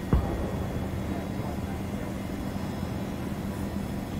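A helicopter in ARMA 3 drones steadily at a distance, a soft, continuous engine rumble after a brief bump at the start, staying faint throughout.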